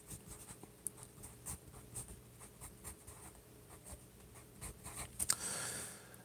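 Pen or marker strokes write out an algebra equation on one line, a steady series of short scratchy strokes close by, growing briefly louder near the end, with no talking.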